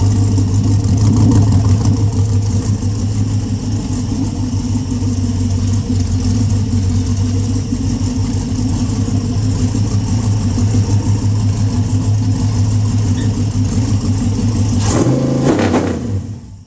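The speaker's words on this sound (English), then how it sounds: "Sounds exactly like every other engine on here" A 6.2 LS3 V8 engine idles loudly with a steady drone for a long stretch, then a brief rev rises and cuts off at the end.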